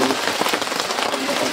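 Steady patter of light rain on a surface, a continuous even hiss with soft scattered drops throughout.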